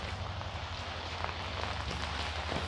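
Steady rain falls outdoors while trash is taken out, a continuous close hiss of drops hitting surfaces at an even level throughout.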